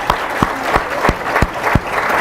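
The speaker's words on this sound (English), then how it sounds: "let's give them another round of applause" Audience applause at a State of the City address in Newark, with steady clapping broken by several sharp, loud claps standing out near the front.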